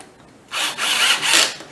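A cordless drill with its clutch set drives a screw into particle board for an upholstered chair cushion, giving three loud, rough grinding bursts close by after a short quiet pause.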